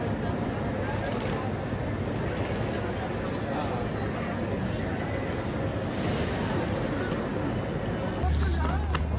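Steady hubbub of many voices echoing in the large indoor hall of Milan's train station, a continuous crowd murmur with occasional footsteps and rolling noise.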